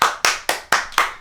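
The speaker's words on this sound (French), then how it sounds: "J'entends des applaudissements." Hands clapping in applause: five sharp, close claps at an even pace of about four per second, each with a quick bright attack and a short roomy decay.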